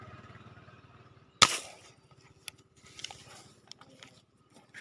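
A single sharp gunshot cracks out while hunting fish in a stream, loud and close, over a low rhythmic background, followed by faint scattered clicks and splashes.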